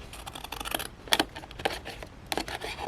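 Scissors snip through a paper decal in a run of short, crisp cuts, with a few louder snips standing out near the end.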